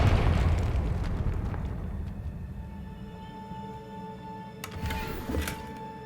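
A Confringo fire spell bursts in Hogwarts Legacy, a loud deep explosion that booms at once and then rumbles and fades over several seconds, followed by a brighter magical shimmer and smaller pops.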